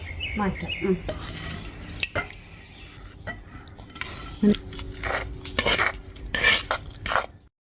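Metal spoon clinks and scrapes against a pot as fish curry is stirred and moved across, irregular clatters up close.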